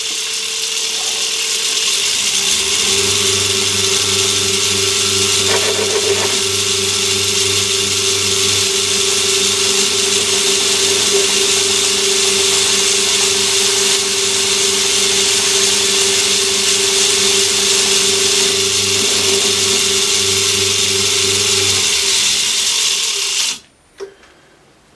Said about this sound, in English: I'm just going to give this little roughing cutter a turn now